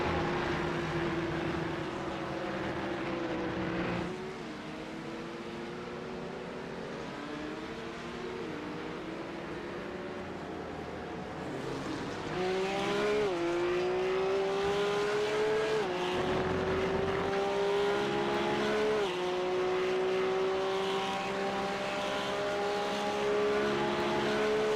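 A GT3 Ferrari and Porsche Cup race cars scream past on the Hockenheim circuit, engines rising through gears with repeated upshifts and a loud, steady wail close by, no talk.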